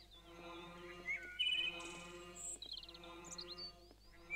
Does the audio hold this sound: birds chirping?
yes